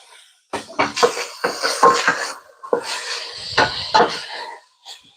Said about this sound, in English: So I'm just cutting up some onions.